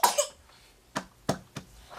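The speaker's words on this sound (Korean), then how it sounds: "가래와 기침 때문에 먹고 토하길 반복합니다." A few small, sharp coughs from a baby with phlegm, spaced irregularly over a couple of seconds, close and fairly soft.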